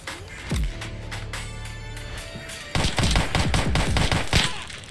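Rapid gunfire in a Roblox police gang-war game set in the Bronx, dense bursts of shots with a loud sustained volley in the second half over a low engine-like hum.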